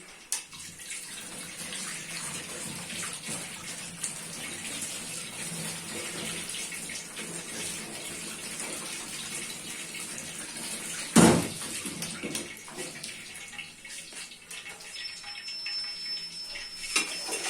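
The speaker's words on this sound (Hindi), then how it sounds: "अब हाथ धो लेता हूँ" Tap water runs steadily for hand washing in a home kitchen, a continuous broadband hiss with a brief louder splash partway through and no talk.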